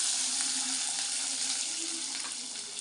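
Shallots sauteing in a pan for lima bean rice give a steady, even sizzle like running water, constant and fairly loud for the whole moment with no talk.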